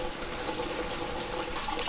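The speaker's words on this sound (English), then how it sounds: "I'm going to pour it through this strainer" Gasoline pours steadily through a strainer from a Porsche 912 fuel tank, a continuous close splashing rush of liquid with no break over the short span.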